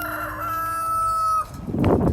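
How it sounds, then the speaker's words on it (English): A rooster crows one long, drawn-out call that cuts off, followed by some rustling and clucking nearby. "Oh, you hear my rooster out there."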